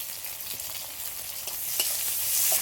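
Chopped onion and tomato with turmeric frying in a pan, a close continuous sizzle and hiss with soft stirring, swelling slightly toward the end.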